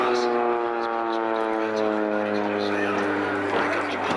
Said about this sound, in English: the porter's going to do a high-speed pass